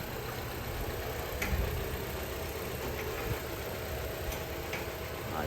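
A Japan-surplus Honda R18 engine idles in a Civic FD, giving a steady, smooth low hum with a faint ticking and no voices.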